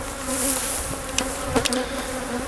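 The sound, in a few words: angry bees swarming around the camera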